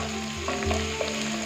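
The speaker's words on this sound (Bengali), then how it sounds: "এবার এটা পেঁয়াজ আর আলুটা একটু ভালো করে ভেজে নেব।" Potatoes and chopped onions fry in a pan, giving a steady close sizzle with faint stirring clicks and no voices.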